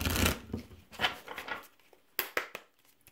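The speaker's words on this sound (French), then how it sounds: "on va tirer une autre carte ici" Tarot cards are handled and a card is drawn from the deck: a rustling shuffle of papery swishes, then three crisp snaps close by in a quiet room.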